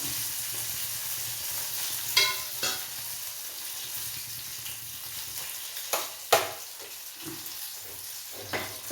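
Curry leaves hitting hot oil in a pan for pineapple pachadi, a steady close sizzle broken by several sharp pops and crackles, with a few clattering utensil scrapes and no speech.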